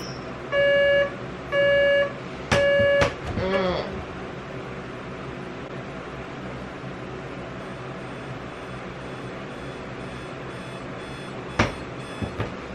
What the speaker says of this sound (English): if I weren't filming, I'd probably snooze that alarm at least 4 or 5 more times